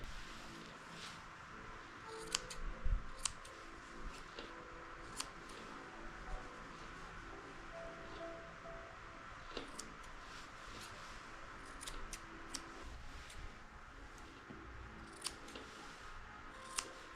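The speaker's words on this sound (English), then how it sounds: "And I'm going to trim up his ears." Scissors snip steadily around a senior Pekingese dog's ears during a grooming shavedown, giving a close series of small, sharp clicks spread through the whole stretch with no talking.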